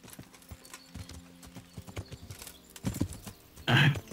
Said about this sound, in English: Damn it, horse. You came.